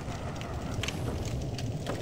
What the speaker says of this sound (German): Oh, die können ja Feuer speien.